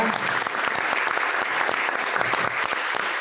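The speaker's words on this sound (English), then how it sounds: "Let's give a big round of applause for our panel." An audience claps steadily for a panel at an exhibition closing ceremony, dense and sustained applause from a crowd filling the room.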